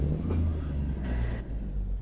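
Cummins M14 engine on a Western Star 5700 truck in a video game idles with a steady low rumble and whir, close and continuous, with a short higher hiss partway through and no talk.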